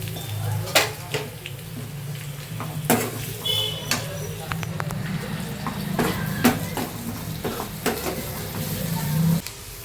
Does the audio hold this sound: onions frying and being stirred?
yes